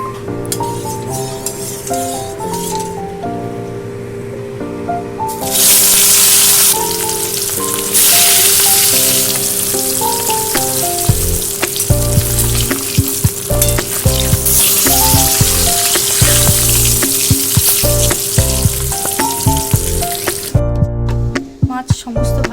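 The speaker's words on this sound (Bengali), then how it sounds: "এবারে মাছগুলোকে ভালো করে আমি ভেজে নেব" Hilsa fish frying in plenty of oil in a wok, a loud steady sizzle and crackle running nearly throughout, with occasional clinks of a utensil against the pan and brief pauses.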